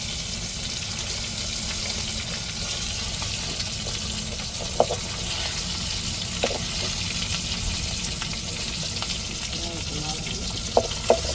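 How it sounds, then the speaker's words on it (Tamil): Fish frying in oil in a pan in a home kitchen as the pieces are turned one by one, a steady close sizzle throughout with occasional light clicks and taps from turning the fish. "அப்படியே மீனை ஒவ்வொன்றையும் பெரட்டி எடுத்துக்கிடுவோம்."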